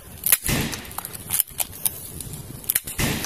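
A toy Nerf gun fires, producing sharp sudden pops and clicks with a few quick snapping transients scattered over a few seconds, close and fairly loud, with mechanical handling noises between shots.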